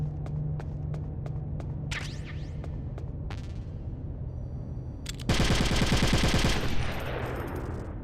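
A gun fires in Metal Gear Solid: The Twin Snakes on GameCube. A few single sharp shots come first, then a loud, dense burst of rapid automatic fire over a low steady hum.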